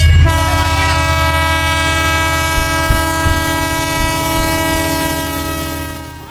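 A passing train sounds a long, steady horn blast that holds through the whole stretch over a deep rolling rumble of the railcars, loud and close.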